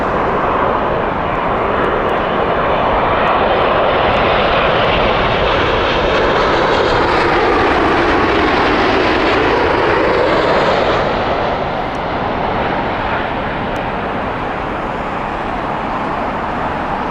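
A Boeing 777 jet passes at Heathrow Airport, a loud, steady engine roar with a slowly sweeping tone that holds for the whole stretch and then eases slightly.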